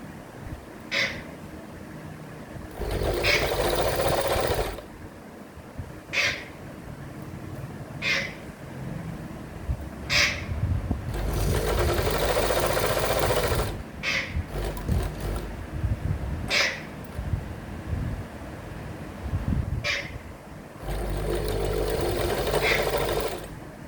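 An electric sewing machine stitching a round neckline runs in repeated bursts of steady whirring, each several seconds long, separated by short pauses. Quiet room, close up, no talking.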